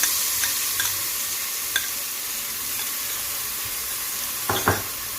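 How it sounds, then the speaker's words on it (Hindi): Garlic and ginger frying in oil in a deep pot for a fish biryani masala, a steady low sizzle with a few sharp stirring scrapes and clinks, the loudest near the end. "और ये जो लहसुन अदरक है इसको डाल देंगे।"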